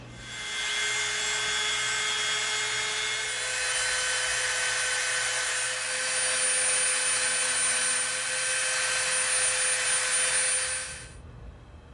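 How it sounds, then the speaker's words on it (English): A Dremel rotary tool bevelling the edge of EVA foam, a continuous high-pitched whine with grinding hiss held steadily for about eleven seconds, close and loud, then winding down abruptly at the end. "we're going to get our Dremel out and we're going to just kind of flatten the edge"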